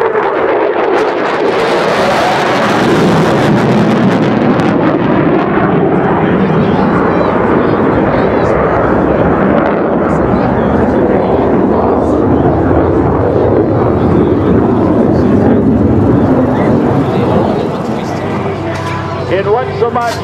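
An F-18 Hornet jet roars overhead in a simulated aircraft carrier landing at the 2012 Alliance Air Show, a loud sustained rumble that swells and fades, with wind buffeting the microphone and an announcer talking over it.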